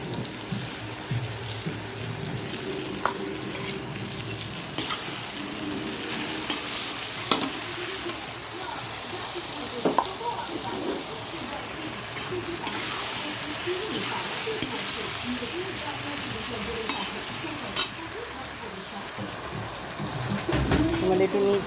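Garlic and chili sizzle steadily as they fry in a pan, with stirring scrapes and knocks throughout and a brief burst of running tap water; close, continuous and moderately loud with no talk.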